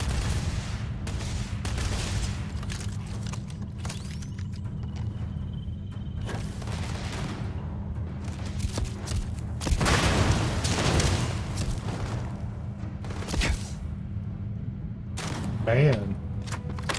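Gunfire and explosions rattle through a Starfield firefight, sustained bursts and booms layered over a droning game background, with a voice talking throughout.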